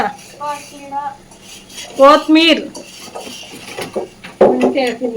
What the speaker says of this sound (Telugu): పాపం కష్టపడుతున్నాడు గిన్నెలు కడుగుతున్నాడు